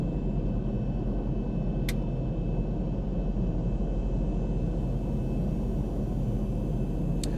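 A Zibo Mod 737-800 airliner in the X-Plane 12 flight simulator, flying Toronto to Ottawa, gives a steady, loud engine and cabin drone with rumble that holds unchanged throughout, with no talking.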